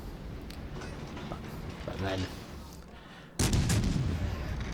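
Warship guns booming in a salvo in World of Warships: Legends, a heavy low rumble that swells abruptly near the end, with a voice talking over much of it.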